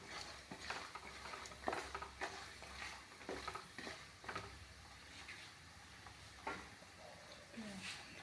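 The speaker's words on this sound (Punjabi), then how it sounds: "ਇਹਨਾਂ ਨੂੰ ਥੋੜਾ ਜਿਹਾ ਪਹਿਲਾਂ ਬੜੀਆਂ ਨੂੰ ਤੇਲ ਦੇ ਵਿੱਚ ਫਰਾਈ ਕਰ ਲਾਂਗੇ" Homemade wadiyan, lentil dumplings, frying in oil in a pan: a quiet, continuous sizzle broken by scattered stirring scrapes and light knocks against the pan, close but faint, with no talk.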